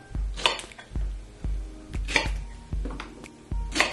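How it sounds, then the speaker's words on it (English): A knife cuts through very ripe bananas on a board, giving a steady series of soft chopping knocks with quiet clicks between them, close and alone. "I need a knife. I'm just gonna cut some bananas."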